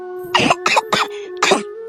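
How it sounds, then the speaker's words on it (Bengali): Four harsh whooping coughs in quick succession, close and loud, with a strained, wheezy voiced edge between bursts. "আমার এটা হুপিং কাশি"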